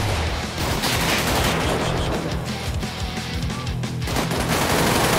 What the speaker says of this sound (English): they just shot their fucking bodyguard.